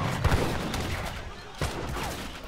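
Gunfire crackles in an Age of Empires battle as a covered wagon is sniped, a dense patter of musket-like shots continuing steadily under a busy mix, with a couple of sharper cracks standing out.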